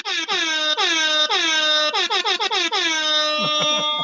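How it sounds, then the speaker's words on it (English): A loud air horn sounds close by in a string of blasts: long sustained tones first, then a rapid run of short honks, and finally a few stuttering toots, with no talking. "I think you definitely need to get yourself an air horn for your next podcast"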